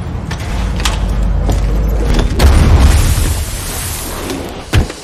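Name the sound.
high-explosive bullet explosion in Dredd film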